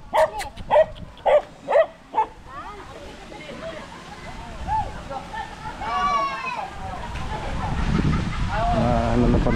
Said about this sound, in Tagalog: Ang daming aso nila dito.